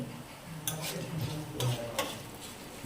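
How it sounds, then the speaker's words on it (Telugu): Two spoons of cumin seeds frying in a pan, a soft steady sizzle broken by a few sharp ticks and clicks of stirring, close by with no voices. "ఇది జీలకర్ర, 2 స్పూన్ల జీలకర్ర. వీటిని మనం ఫ్రై చేసుకోవాలి."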